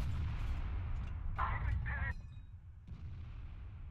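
Gunfire in an online multiplayer shooter game, sounding as two or three close, loud bursts of shots in quick succession over a steady low game rumble, with a short quieter stretch before the background returns.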